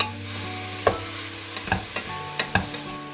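Fenugreek leaves tossed and stirred in hot oil in a pan, with a low steady sizzle broken by a few sharp scraping stirs, close and fairly quiet, no talking.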